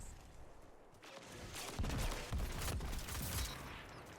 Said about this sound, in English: Heavy grenade launcher